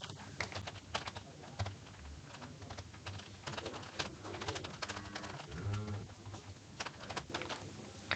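Typing on a computer keyboard while entering a hospital bill in Excel: close, uneven bursts of quick key clicks, with a pigeon cooing faintly in the background.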